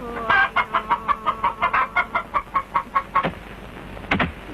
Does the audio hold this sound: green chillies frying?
no